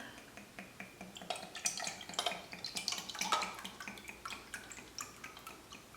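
Oat milk poured into a measuring cup while preparing wet ingredients for jicama blueberry mini waffles, a soft uneven trickle with small drips and light clinks, fairly quiet and steady over several seconds with no talking.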